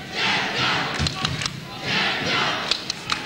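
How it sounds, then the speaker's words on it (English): A ringside crowd at a boxing title fight in St Albans, Victoria, roaring loudly in two surging waves, with scattered shouts and thumps mixed into the noise. "A vibrant crowd here tonight in St Albans, Victoria, no doubt about that."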